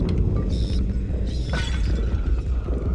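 An object smashes in the sci-fi video game Prey, a brief crash with a glassy shatter and mechanical clatter, repeated twice over a constant loud low rumble of game ambience.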